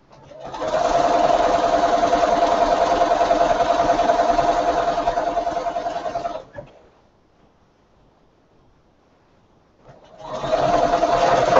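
A sewing machine stitches a quilt seam in a fast, steady whirring run of about six seconds, stops briefly into near silence, then starts up again, close and clear.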